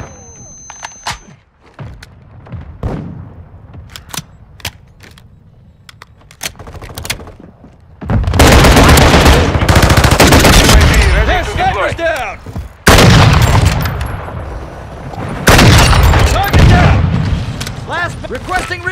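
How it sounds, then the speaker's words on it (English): Call of Duty: Modern Warfare II team deathmatch gameplay, where scattered rifle shots give way to loud, rumbling mortar strike explosions and bursts of gunfire, with in-game voice callouts heard between the blasts. "Hostile mortar strike incoming!"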